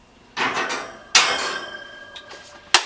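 STIHL MS 251 chainsaw chain brake being handled, a few sharp metallic clacks and rattles, close and separate, with a final crisp snap as the brake is engaged.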